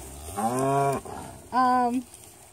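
Farm cattle give two loud, drawn-out moos close by, the first about half a second long and the second slightly shorter, with a brief pause between them and quiet surroundings.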